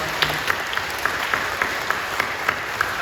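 Church congregation applauding during a Sunday communion service at Incheon Full Gospel Church, a steady spread of handclaps with a few sharper claps standing out, moderately loud and without talk.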